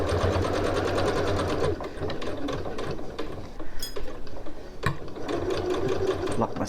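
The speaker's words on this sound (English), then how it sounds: "Lock my stitches at the end" A sewing machine stitches a seam on a reversible tote in a rapid, close mechanical chatter, slowing briefly midway with a few clicks, then resuming to lock the stitches at the end.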